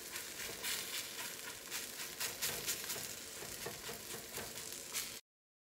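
Chickpea scramble sizzles and crackles in a hot pan, a steady, close frying hiss with occasional stirring, then it cuts off abruptly.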